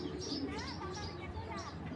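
Sapchila Napta pigeons coo softly in soft rolling bursts, a few rising and falling calls close by over a low background murmur.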